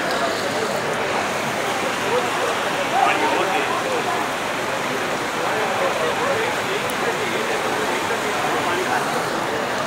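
Floodwater rushes through a street in a Rawalpindi bazaar, a steady broadband roar of flowing water with voices talking over it.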